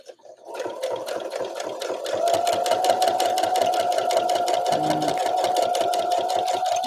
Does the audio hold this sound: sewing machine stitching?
yes